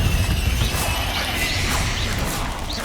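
Bombarda and Confringo spells go off in Hogwarts Legacy, a dense run of blasts, whooshes and crashing impacts layered over a continuous rumbling game soundscape.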